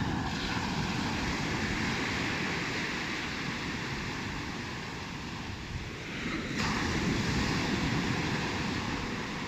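Sea waves on the Ligurian coast break and wash steadily onto the shore during a fishing outing, a loud continuous roar with a brief dip and a fresh surge late on.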